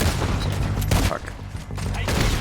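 Gunfire from the Red Dead Redemption 2 western shootout, a dense, continuous fusillade of shots and booms filling the clip with little pause, mixed with game sound.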